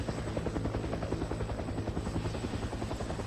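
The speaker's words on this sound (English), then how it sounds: "We jump out of a helicopter." Helicopter in the video game Fear the Wolves, a steady loud rotor thrum with rhythmic blade chopping that continues throughout, with no talk over it.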